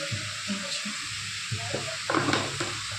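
Vegetables frying in a pan for a home lunch, a steady close sizzle with soft stirring scrapes and a brief louder burst of hissing partway through.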